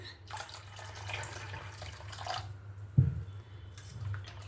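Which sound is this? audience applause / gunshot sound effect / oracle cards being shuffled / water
water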